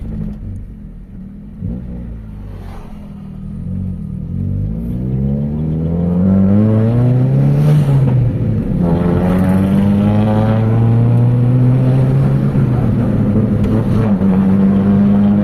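A Toyota Corolla with a 2E engine that has a low-power problem, heard on a test drive. The engine drones loudly from inside the car and its pitch climbs through repeated gear-by-gear acceleration.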